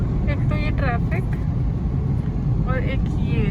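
Busy Delhi road traffic, a constant loud roar of passing cars and buses with engine rumble throughout, while people talk over it.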